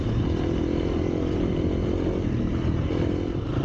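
A motorcycle rides off-road through bushes and mud, its engine a loud, steady, close drone with rough clattering texture throughout.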